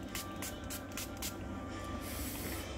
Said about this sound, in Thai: ฉีดนะคะให้ความชุ่มชื้นกับผิวนะ